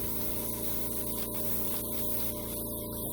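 An airbrush sprays blue paint across a motorcycle's painted snow scene, a continuous loud hiss of air over a steady compressor hum, with brief pauses in the spray.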